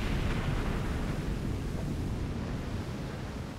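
A torpedo hit on a ship in Silent Hunter 5, a heavy sustained roaring rumble that stays loud and broad throughout, slowly easing toward the end.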